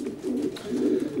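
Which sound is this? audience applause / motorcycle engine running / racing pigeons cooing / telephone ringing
racing pigeons cooing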